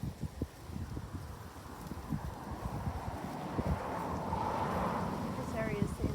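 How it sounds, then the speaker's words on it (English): Gusts of wind buffet the microphone with a rough, low rumble that rises and falls while someone talks over it outdoors in an autumn vegetable garden. "Sorry, it's very windy."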